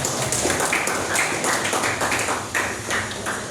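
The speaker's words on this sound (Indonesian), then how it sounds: "Tepuk tangan Bu Arin." A group applauds Bu Arin in a steady, moderately loud run of overlapping hand claps that keeps going throughout, with no clear voices on top.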